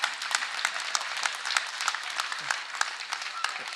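An audience at a political speech applauds with steady, dense clapping from many hands, fairly close and continuous throughout, with no voices standing out.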